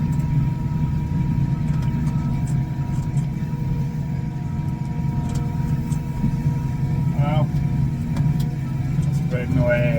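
A Case tractor pulls a fertiliser spreader across grassland, spreading urea. Its engine gives a steady, close diesel drone with low rumble throughout, and a voice talks over it.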